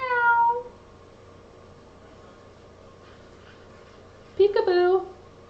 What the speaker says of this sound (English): I hear Peekaboo meowing too.